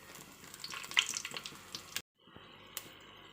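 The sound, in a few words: whole spices spluttering in hot oil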